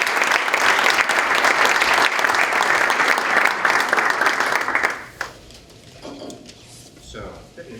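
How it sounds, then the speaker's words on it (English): Lively audience applause welcoming a lecturer, loud continuous clapping from a crowd for about five seconds before it fades into quiet room noise and faint movement. "join me with a round of applause"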